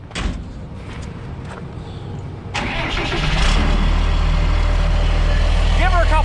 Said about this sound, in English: Start it back up. We got to listen to this exhaust one last time before we tear it apart.